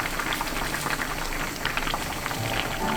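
A pot of spicy tuna gochujang stew with Cheongyang chili, green onion and pepper bubbles at a steady boil, a dense, continuous crackle of popping bubbles close by with no talk.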